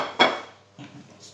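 Chicken drumsticks and potatoes set down into a baking pan, giving one sharp clatter of metal followed by a softer bump, close and without talk.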